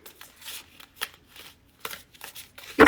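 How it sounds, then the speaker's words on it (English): Tarot cards are shuffled in quick, uneven bursts of crisp card-edge slaps and riffles with brief pauses between them, ending in a sharp louder knock. "These cards are like messy shuffle today."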